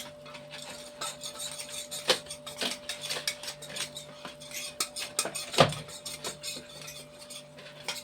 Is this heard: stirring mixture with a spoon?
yes